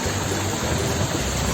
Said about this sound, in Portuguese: Esse barulho da água assim,